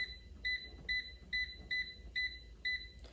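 Air fryer control panel beeping as its temperature is set, about eight short, evenly spaced electronic beeps in a quick regular rhythm, close and fairly quiet, with no talking.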